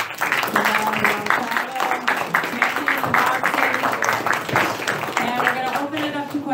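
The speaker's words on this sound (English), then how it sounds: "we're just gonna give a big round of applause for the performance tonight from both Jermall and" Applause from an audience fills a post-fight boxing press conference, a dense patter of clapping that carries steadily throughout, with voices talking over it.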